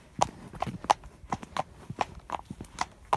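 A donkey walks on a hard surface, its hooves giving a close, crisp clip-clop in a steady rhythm of about three steps per second, alone with no talk.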